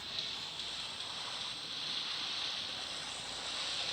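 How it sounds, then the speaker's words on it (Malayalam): A boat moving at speed across open water gives a steady, moderately faint rush of wind and hissing spray, continuous and even with no talk over it. "ഈ ബോട്ട് ഇത്ര സ്പീഡിൽ പോകും."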